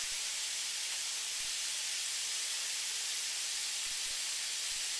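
Jalapeno, garlic and fermented Chinese black beans stir-frying in a hot pan, making a loud, even, unbroken hiss of sizzling oil throughout, with no voices.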